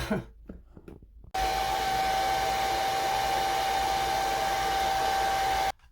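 Hair dryer blowing heat onto blue-dyed hair during a color-removal treatment: after brief rustling, a loud, steady, close whine with a constant tone runs alone, then cuts off abruptly.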